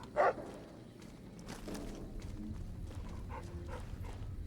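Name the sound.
dog barking in Fallout New Vegas video game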